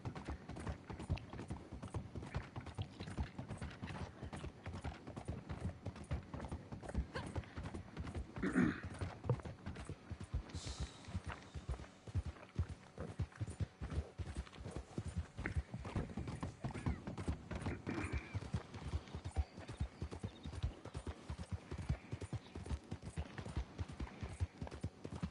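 Horse hooves clip-clop in a steady, rapid rhythm in the video game Red Dead Online, a faint, continuous gallop lasting throughout with occasional snorts and tack rattles, no speech over it.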